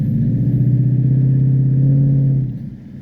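A 2016 Mustang GT engine revs hard as the car accelerates on snow, a loud steady close drone that drops away near the end.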